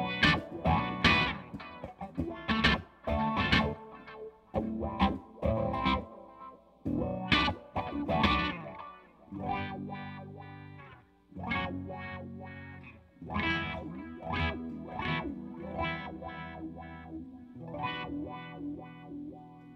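An electric guitar plays through a wah pedal in a comparison of several pedals. Distorted chords and bursts sweep in tone, with strummed phrases and pauses between them. It is loud and close, with no talking.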